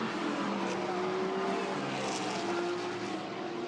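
A GT race car on the Brands Hatch circuit roars steadily, a sustained loud engine note with a rising and falling pitch as it passes, continuous throughout.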